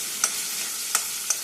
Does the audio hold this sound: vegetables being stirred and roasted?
yes